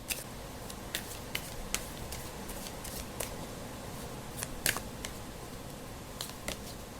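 Tarot cards are shuffled and drawn, heard as soft close riffling and a series of sharp, irregular card snaps and flicks against a quiet background, with no talking.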